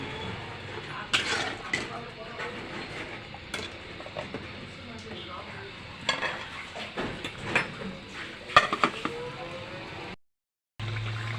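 A spoon stirs and scrapes through a sizzling spice masala with added salt in a pan while cooking broiler chicken curry with milk. Irregular close clinks and scrapes rise over a steady low frying hiss, then cut off abruptly near the end.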